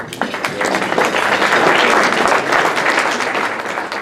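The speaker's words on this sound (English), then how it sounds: "so let's give him a round of applause" Loud, sustained applause from an audience at a Rotary Club gathering welcomes a visiting Rotarian, dense clapping swelling and holding steady throughout before easing slightly at the end.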